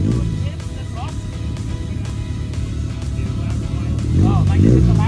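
Mitsubishi Pajero XR-II engine idling with a steady low rumble, then blipped into a couple of short revs near the end, with voices talking over it.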